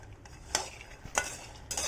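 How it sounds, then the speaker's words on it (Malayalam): Peanuts dry-roasting over very low heat in a steamer pan, stirred with a utensil, giving a few sharp scraping, rattling strokes spaced apart over a faint background hiss. "ഞാൻ ഈ ഒരു രീതിക്ക് തന്നെ സ്റ്റീം ചട്ടിയിലിട്ടിട്ട് വറുത്തെടുക്കുകയാണ് കേട്ടോ ചെയ്യുന്നത്"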